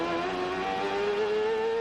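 A CART Indy car engine from 1997 racing at Portland, droning loudly and steadily with a rising high-pitched whine as the driver shifts down to third gear.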